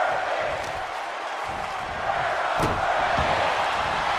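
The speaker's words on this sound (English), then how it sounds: "The fans are rooting on Shady McGrady." A hot wrestling-show crowd roots on Shady McGrady with a steady roar of cheering and shouting that fills the space, punctuated by a couple of dull thumps.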